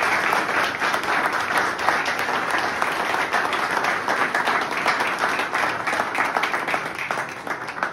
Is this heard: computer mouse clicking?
no